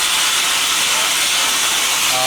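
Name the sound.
sandblasting compressor air hissing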